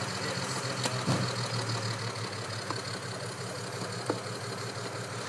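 A steady engine idles with a low, even rumble and faint knocking, with a couple of brief clicks over it.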